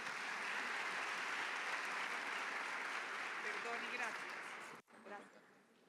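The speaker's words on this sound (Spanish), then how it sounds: "despidamos a la doctora Natalia con un fuerte aplauso" Audience applause at an energy-development panel discussion, a dense and even burst of clapping that holds for nearly five seconds before cutting off abruptly, followed by a brief bit of talk.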